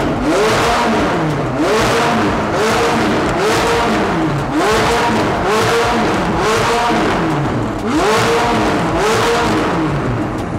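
A McLaren 570S Stage 2 engine revs loudly and repeatedly in bursts, rising and falling in pitch several times, close by and aggressive.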